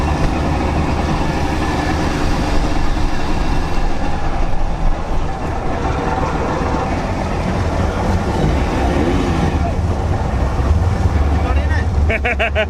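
A Goggomobil 250 two-stroke engine runs at Summernats, a loud, continuous buzzing drone throughout, with people talking over it.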